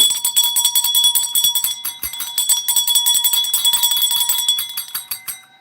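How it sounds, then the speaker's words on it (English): A notification bell rings over and over in quick bright tinkling strikes, steady and fairly loud across the whole stretch, with no talking. "Oh, I got a bell. I got a bell."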